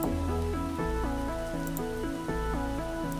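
Rain falls in the game Starbound under a prominent melodic music track, a soft hiss behind the stepped tune with no talking.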